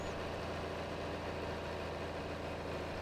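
A John Deere 4020 tractor engine in Farming Simulator 22 drones steadily, a constant low rumble that stays even and close throughout with no speech.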